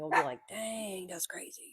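Pet dogs barking and yipping indoors, one sharp bark followed by a drawn-out whining howl, with a person talking over the noise.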